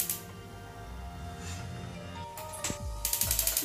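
A gas stove is lit under a pan, with mechanical ratcheting clicks from the igniter that become a quick run of evenly spaced sharp ticks at the end, close and without speech.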